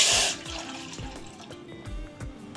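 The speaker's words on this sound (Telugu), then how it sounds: "ఇప్పుడు 1 కప్పు వాటర్ పోసుకోవాలి." A cup of water splashes briefly into flour for modak dough, followed by light drips and soft clinks in a quiet kitchen.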